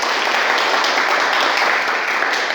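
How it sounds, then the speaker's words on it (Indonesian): Sustained applause from a seated audience of trainees at a trainer certification session in Bogor, a dense, steady wash of clapping lasting the whole stretch with no voices over it. "kasih aplaus dong buat kita semua"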